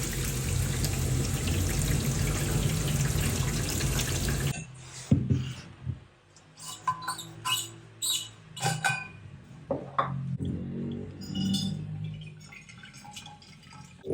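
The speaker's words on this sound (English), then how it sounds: "So I'm not looking to fill up the thermos all the way" Hot water pours steadily into a thermos while making Argentine mate, a broad running wash for several seconds that breaks off into softer trickles, drips and small clinks close by.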